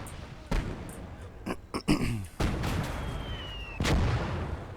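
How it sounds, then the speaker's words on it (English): Battlefield combat in the game Call To Arms: Gates Of Hell, with a mortar shot among several sharp booms and thuds spread across a few seconds over a low, rumbling background. "that was a mortar shot"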